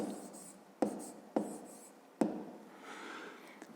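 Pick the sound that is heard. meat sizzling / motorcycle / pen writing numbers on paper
pen writing numbers on paper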